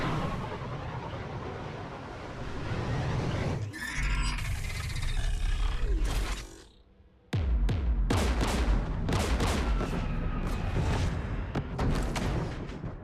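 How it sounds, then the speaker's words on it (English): Gunfire and explosions in the Mass Effect 3 video game near an anti-aircraft tower: loud, roaring bursts of weapons fire and blasts with a brief lull in the middle, then repeated sharp booms. "We're taking fire."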